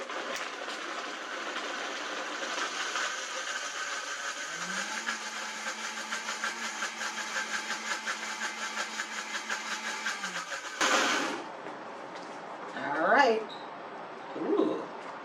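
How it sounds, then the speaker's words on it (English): A blender whirs steadily while mixing a soy salad dressing until smooth, a close, buzzing motor whine that holds for about ten seconds before cutting off. Afterward a few soft bumps and short sounds follow. "We're going to blend this until it's smooth."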